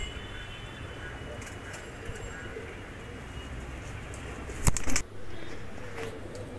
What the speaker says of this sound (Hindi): मतलब ओरिजिनल सहारनपुरी कबूतर है।